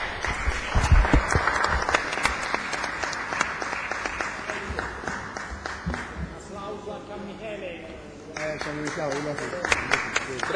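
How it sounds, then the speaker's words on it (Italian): Florence city council members applaud the four colours of the historic football teams and their players, a sustained round of clapping from the chamber that softens midway before picking up again. "Credo che tutti quanti dobbiamo fare un applauso a tutti e quattro colori e ai loro calcianti"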